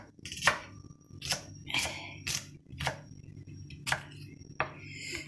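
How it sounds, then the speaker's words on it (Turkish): A knife chops garlic on a cutting board in about eight evenly spaced, crisp strikes, close and fairly quiet. "Sarımsak doğrayacağım."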